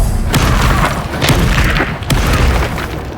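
Repeated Confringo spell blasts in the Hogwarts Legacy video game, a series of loud booming bursts and thuds over dense game noise, several impacts spread across a few seconds.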